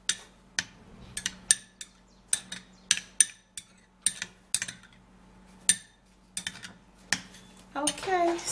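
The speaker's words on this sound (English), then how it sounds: "I'm gonna be putting 2 tablespoons of it into the avocado, and then give it a stir." A spoon stirs cucumber juice into mashed avocado in a bowl, giving a string of sharp, separate clinks against the bowl at an uneven rhythm. It is close and clear over a quiet background.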